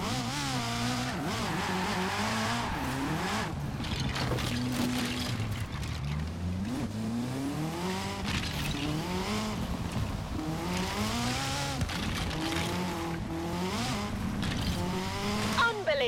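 Engine of a full-sized drivable Lego sports car racing in Forza Horizon, a steady rising and falling engine drone that runs throughout with continuous game audio layered over it.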